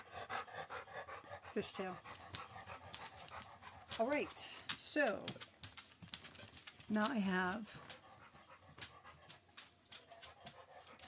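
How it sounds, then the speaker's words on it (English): A dog that has finished its peanut butter pants rapidly and whimpers, eager to go outside, with its breathy rhythmic panting and a few whiny cries running under a person talking. "a dog that's done with his peanut butter and really does want to go outside."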